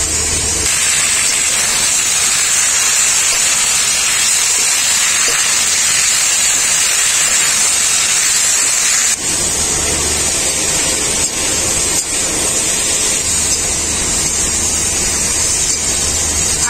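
A ground paste of ginger, cumin, coriander and black pepper hits lightly fried potato and eggplant in hot oil, producing a loud, continuous, close hiss that barely varies.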